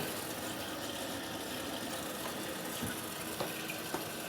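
Water runs steadily from a tap in a home distilling setup, a constant hiss-like flow with faint clicks and knocks near the end.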